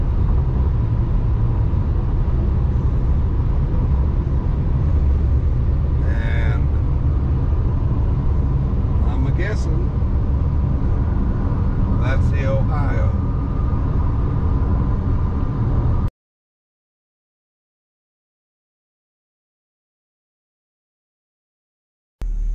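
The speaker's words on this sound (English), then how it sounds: "So I'm driving over to see Captain Kleeman." Steady low road rumble and engine drone fill the cabin of a moving car for about sixteen seconds, a few faint higher whines rising briefly, before cutting abruptly to silence near the end.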